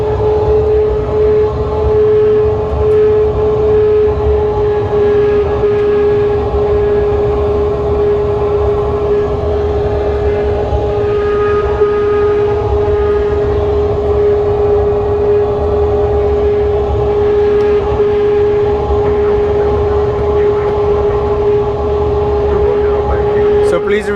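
Light aircraft taxiing towards the runway at Salzburg, a loud steady engine drone with a constant tonal whine heard from inside the cockpit, continuous throughout.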